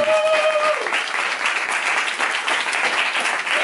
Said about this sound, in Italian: E un applauso a Casematte che ha organizzato tutto